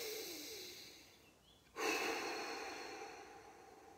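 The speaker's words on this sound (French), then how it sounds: "On inspire profondément." One deep inhalation outdoors in a forest during a breathing exercise, a close, drawn-in breath followed by a brief pause and a stronger rush of air, heard alone without talk.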